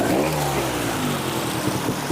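A trials motorcycle rides through a rocky creek bed, its engine droning steadily and dropping slightly in pitch against a rushing, splashing wash, loud and fairly close, with no talking.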